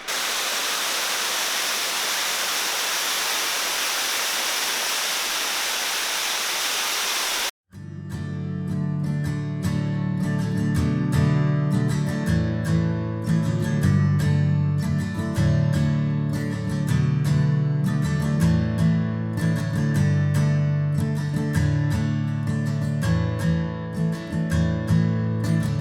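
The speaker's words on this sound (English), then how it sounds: "There's a waterfall right down here." Waterfall at Ranger Falls in the North Carolina mountains gives a loud, steady, close rushing roar for about seven seconds, then is abruptly cut off and replaced by music.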